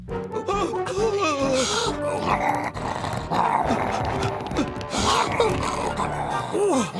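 A cartoon dog growls and snarls loudly in an animated Christmas Carol musical, mixed with voices and music in a busy soundtrack.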